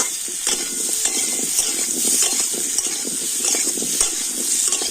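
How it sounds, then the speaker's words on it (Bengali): Potatoes fry in a kadai with salt and turmeric, a close, busy sizzle broken by repeated scraping and stirring strokes, with no voices. "হলুদ আর লবণ দিয়ে আলুটা কিন্তু আমি লাল লাল করে ভেজে নেবো"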